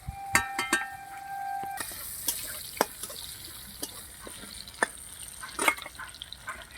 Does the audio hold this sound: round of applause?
no